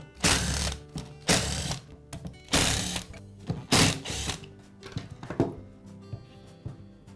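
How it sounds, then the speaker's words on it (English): Screws are backed out of the rear side cover of a DeWALT angle grinder, likely with a ratcheting driver: several bursts of loud, close ratchet clicking separated by short pauses, with no voices. "We'll begin by removing the side cover at the rear of the grinder. It's secured with 5 screws."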